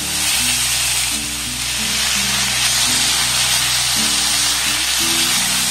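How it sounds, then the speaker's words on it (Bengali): Spiced cauliflower paratha filling with a little potato stirred in a pan, a loud close sizzle running continuously beneath steady rhythmic scraping of the spoon, with no voices. "ফুলকপি দিয়ে আবারও সমস্ত উপকরণ খুব ভালোভাবে নাড়াচাড়া করে নেব।"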